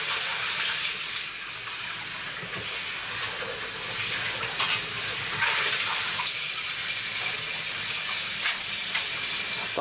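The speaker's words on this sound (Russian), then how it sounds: "Сливаю эту горячую воду и споласкиваю холодной водой." Cold tap water runs steadily as a roasting pan is rinsed in a kitchen sink, a continuous close hiss and splash with small shifts as the stream hits the metal, no talking.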